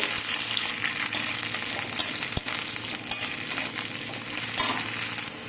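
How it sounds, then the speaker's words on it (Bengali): Chopped green beans fry in a pan of hot oil, a dense, steady sizzle filling the whole stretch with a few sharp clinks of a stirring utensil against the pan. "বিন কেটে রাখা বিনগুলো দিয়ে দিলাম একটু ভেজে নেব"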